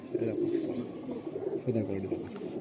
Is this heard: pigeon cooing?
yes